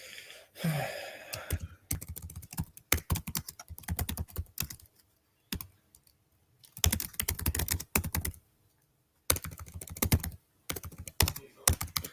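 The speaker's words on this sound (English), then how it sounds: "It's typing on new laptop keyboard that's throwing me off" Keys clatter on a new laptop keyboard in quick, close bursts of typing broken by short pauses, with a sigh near the start and no talk over it.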